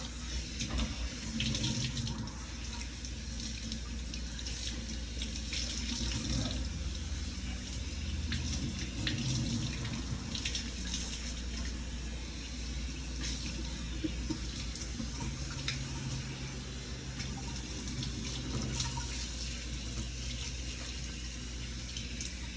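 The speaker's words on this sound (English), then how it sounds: "Now we're going to just rinse you off." Warm tap water runs steadily as a Cavalier King Charles puppy is rinsed in a sink, a continuous splashing flow with small changes as the stream hits fur and basin, close and fairly even.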